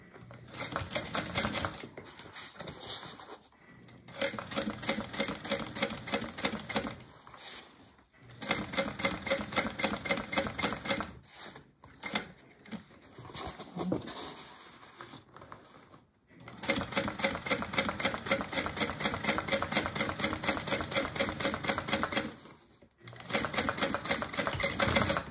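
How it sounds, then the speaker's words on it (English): A sewing machine topstitches a bag seam in rapid, even bursts of mechanical chatter, stopping and starting several times with short pauses between runs, close and fairly loud. "I'm going to top stitch right at the seam"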